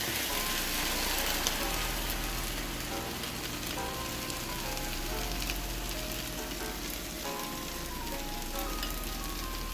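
Whisked eggs hit a hot pan and hiss in a loud, steady sizzle that holds without a break.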